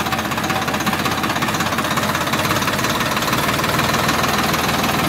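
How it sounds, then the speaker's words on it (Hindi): A Farmtrac 60 tractor engine runs hard and close, a loud continuous knocking diesel rumble with rapid rhythmic pulsing and vibration, with no talk over it. "फार्म ट्रैक 60 बहुत ज़बरदस्त ट्रैक्टर है।"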